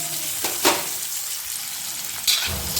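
Thinly sliced onion frying in a pan for sambar makes a steady close sizzle, with a couple of brief stirring scrapes breaking through the hiss and no talk.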